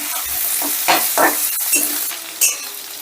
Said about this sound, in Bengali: এবার আলুটাকেও মিনিট 2-3 মতন বেশ নাড়াচাড়া করে ভেজে নেব।